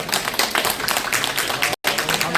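Church congregation at a Korean ministry midweek service clapping for a speaker, a dense, even patter of many hands with a brief dropout near the end, no voices.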